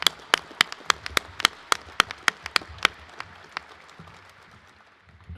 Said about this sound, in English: And a round of applause for Dr.